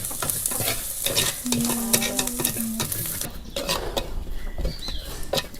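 Frying food sizzles steadily in a pan while it is stirred and scraped with chili, coriander and turmeric powder, giving close, repeated stirring scrapes over the constant crackle.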